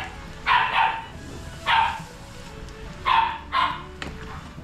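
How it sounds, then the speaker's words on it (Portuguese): Two Rottweilers barking in a home kitchen, five loud bursts in uneven pairs, fairly close, with quiet background between barks. "Aí eu não consigo gravar porque elas ficam latindo aí."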